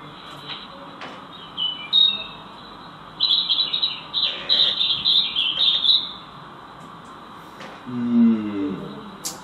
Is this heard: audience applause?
no